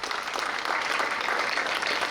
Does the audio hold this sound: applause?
yes